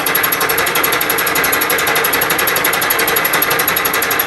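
A Bridgeport milling machine fly cutting metal, a loud, steady, rapidly pulsing whir with a high ringing whine that holds evenly throughout, no talk.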